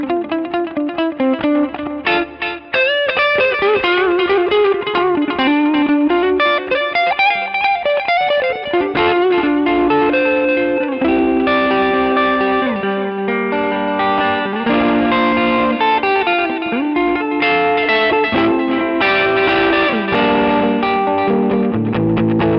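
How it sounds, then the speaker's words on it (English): Electric guitar played through a JHS Notaklon overdrive pedal with delay from a Boss Space Echo, a loud, continuous run of driven, echoing notes and chords with a smeared, repeating tail and no talking. "I crank on some delay from a Boss Space Echo."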